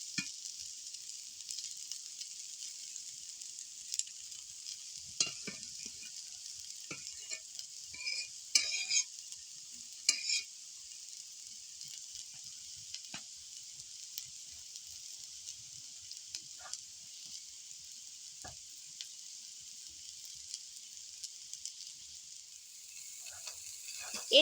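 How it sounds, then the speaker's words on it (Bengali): Ingredients fry in a pan while being stirred until browned, giving a faint, steady sizzling hiss with sporadic light scraping and clinks, heard close but quiet. "এগুলোকে আমি পুরোপুরি লাল করে ভেজে নেব।"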